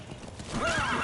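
A horse in the video game Metal Gear Solid V gives a loud, close whinny that rises and wavers, over light hoof clopping.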